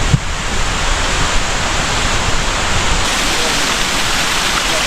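Small waterfalls on the Bhimashankar trek rush in a dense, steady roar of falling water, broadband and continuous, mixed with some wind buffeting.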